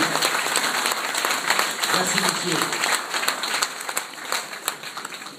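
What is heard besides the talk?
audience applauding the youth team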